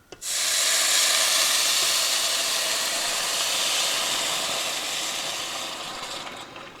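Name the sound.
broth poured into hot pan, steam hiss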